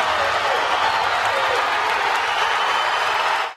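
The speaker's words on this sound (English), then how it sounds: "I've never in all the years heard the crowd go off the way they did in that last round when Gus put the count on the young fella" A boxing crowd at a fight cheers and applauds in a loud, dense, unbroken roar of clapping and shouting that fills the space and then cuts off abruptly.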